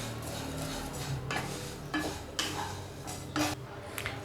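Two cups of vermicelli roasting in hot ghee in a pan, heard as a soft background crackle broken by several distinct scraping, clinking strokes of a spatula stirring against the metal, with no talk.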